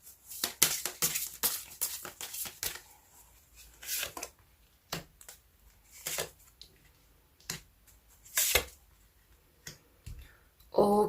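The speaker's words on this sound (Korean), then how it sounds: "먼저 카드 뽑아보도록 할게요." Tarot cards being drawn and handled, with a quick run of crisp snapping, flicking and clicking sounds, close and sharp, then scattered single clicks spread through the rest, no talk.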